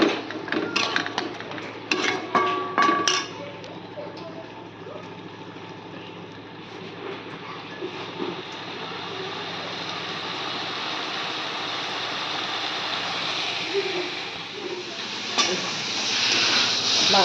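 Meat being fried (kosha) in a pan at home, a steady broadband sizzle and hiss that builds gradually and holds through, with some clattering stirring noises near the start.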